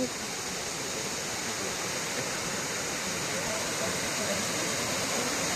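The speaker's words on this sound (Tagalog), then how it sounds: "Ang lakas ng tubig." Strong flowing water at Dalitiwan Resort in Majayjay, Laguna, roars as a dense, unbroken rush like a nearby waterfall or stream, loud and constant throughout.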